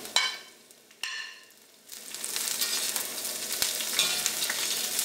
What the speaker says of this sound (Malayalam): ഇത് രണ്ടും കൂടിയിട്ട് ഏറ്റവും ആദ്യം പതുക്കെ ഒന്ന് ടോസ്റ്റ് ചെയ്തെടുക്കാം.